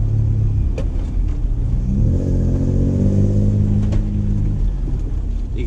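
A 4WD engine rumbles loudly and steadily during a deep water crossing, with a gurgling, burbling undertone from the exhaust bubbling underwater, lasting several seconds without talk.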